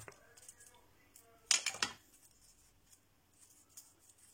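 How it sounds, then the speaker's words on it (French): Scissors cut paper for a handmade mini album, a quick cluster of crisp snips and rustles in the middle of a quiet stretch, close to the listener, followed by faint paper handling. "Alors, mes ciseaux font un petit bruit,"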